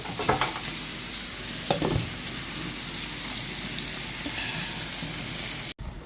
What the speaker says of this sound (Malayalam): കറി ഒന്ന് നല്ലോണം തിളക്കട്ടെ.